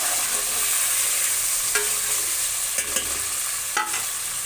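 Chopped, peeled tomatoes fry in a pan with steady hissing and a few sharp clinks and scrapes of stirring near the end, close and alone without talk.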